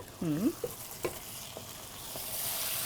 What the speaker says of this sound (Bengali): আমি একটু নেড়ে দিই